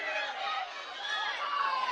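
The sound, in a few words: crowd cheering at ninja competition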